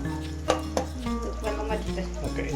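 Tamarind water being mixed into a simmering onion theeyal curry in a pan, with a couple of sharp utensil knocks followed by soft, continuous stirring and scraping over a low steady hum.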